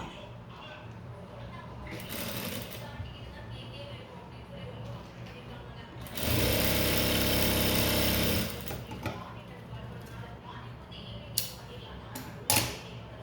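A sewing machine stitches a blouse seam in bursts, a short run near two seconds and a longer steady whir around six to eight seconds, with talking around the stitching.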